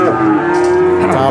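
A breeding cow at the Pon cattle market in Purwokerto lets out a loud, close, sustained moo over a busy background.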